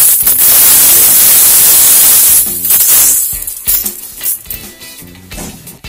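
A mixer grinder grinds roasted garam masala spices with a loud, steady, hissing roar for about two and a half seconds, then drops into uneven rattling and clattering bursts as the jar settles. No one speaks.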